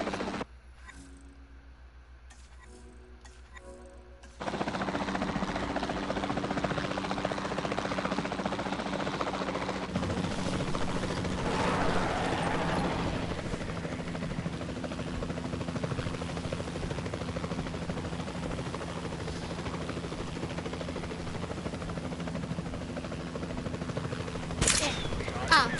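The capture team helicopter in the video game Jurassic World Evolution 2 gives a steady, droning rotor and engine whir that fills the scene, rising slightly over time, with a person talking over it.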